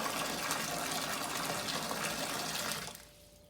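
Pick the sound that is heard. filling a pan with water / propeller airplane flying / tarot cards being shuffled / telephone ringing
filling a pan with water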